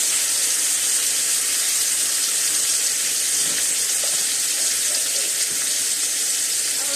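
Steaks fry in a pan with a loud, continuous hissing sizzle that holds steady and close from start to finish, with no talking over it.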